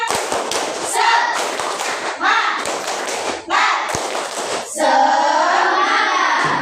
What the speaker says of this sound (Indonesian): coba beri tepuk yang tepuk semangat lagi satu kali. Tepuk semangat